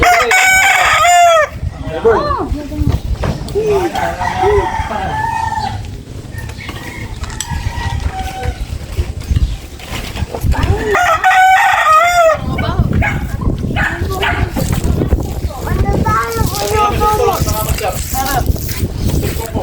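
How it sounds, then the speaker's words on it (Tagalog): A rooster crows loudly and close by, several times, with more fowl clucking around it, while people talk through much of the stretch. "Bird."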